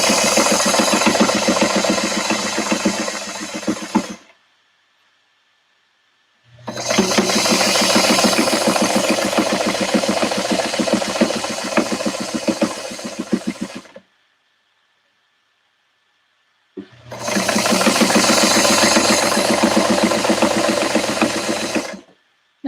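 A sewing machine stitches a fabric face mask in three steady, buzzing runs, each several seconds long, separated by short silent pauses, close and fairly loud with no talking.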